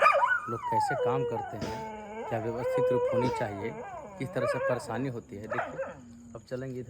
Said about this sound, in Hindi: कुत्ता भौंक रहा है तो हो सकता है काट भी न ले।